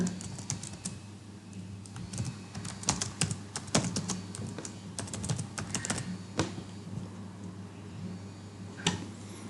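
Fingers typing on a computer keyboard while entering an officer's surname into an online profile form, irregular bursts of close, crisp key clicks with short pauses between, no speech.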